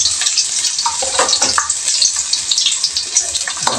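Onion and garlic hitting hot cooking oil for adobong kangkong, a steady loud sizzle and crackle with faint stirring, no talking.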